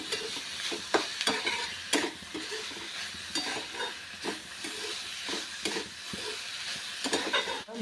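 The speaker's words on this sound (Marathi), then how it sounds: "2 मिनटं मसाला घालून आपण छानपैकी परतून घेऊया." Okra sautés with masala in a pan, giving a steady soft sizzle broken by repeated scraping stirs at an uneven rhythm, close up and fairly quiet.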